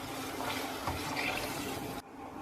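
Washed barnyard millet rice and water are poured into a cooking pot for a millet and cowpea rice dish, making a steady rushing splash that stops abruptly near the end.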